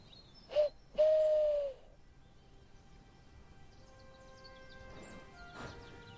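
A person imitates an owl with two hoots, a short one then a longer drawn-out one, followed by quiet background with faint distant sounds.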